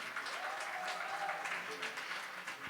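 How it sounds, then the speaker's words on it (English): A large audience at a book launch claps in a steady, dense round of applause that fills the room at an even level throughout, with faint voices mixed underneath. "Can we also hear a huge round of applause for talented students and their mentor,"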